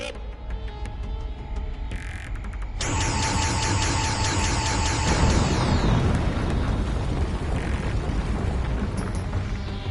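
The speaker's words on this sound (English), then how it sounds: "We can destroy those Dalek energy blasts before they reach us." Dalek energy blasts in the VR game Doctor Who: The Edge of Time, a sustained roaring, crackling burst that swells after a quieter opening and carries on loudly to the end.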